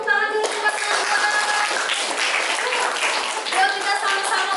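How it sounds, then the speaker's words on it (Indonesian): Classroom applause for a student, a steady burst of many hands clapping together at close range, running continuously with some voices mixed in. "Tepuk tangan dulu buat Nazla"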